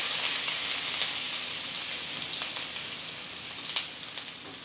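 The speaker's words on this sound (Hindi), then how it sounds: "ऑयल गरम होने के बाद हम इसमें 3 टेबलस्पून अदरक और लहसुन डालेंगे चॉप किया हुआ।" Chopped ginger and garlic fry in hot oil in a wok, giving a steady, close, bright sizzle with scattered crackles and pops throughout.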